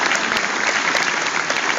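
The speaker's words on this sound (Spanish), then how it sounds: "Vamos a dar un fuerte aplauso." A church congregation applauds loudly and steadily, a dense, close wash of many hands clapping at once without pauses, filling the room.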